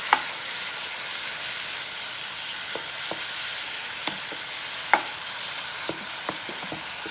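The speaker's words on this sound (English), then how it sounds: "Then I'm gonna just mix this up." Nacho mixture being stirred in a Power XL cooker, a steady sizzling hiss with scattered soft scrapes and clicks of a utensil against the pot, close and fairly quiet, with no talking.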